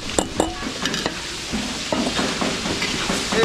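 Garlic and onion fry in a pan for a Filipino fiesta dish in Pampanga, giving a steady close sizzle with scattered clinks and scrapes of stirring throughout.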